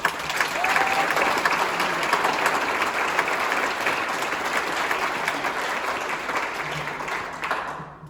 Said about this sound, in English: So can we all please give PTA another big round of applause?